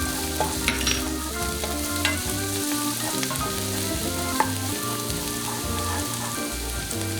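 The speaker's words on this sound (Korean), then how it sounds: "마늘향이 올라오면 썰은 홍고추를 넣어주세요" Sliced red chili and garlic stir-fry in hot oil in a pan, a steady loud sizzle broken by rhythmic scraping and tossing strokes of a utensil, close up and without speech.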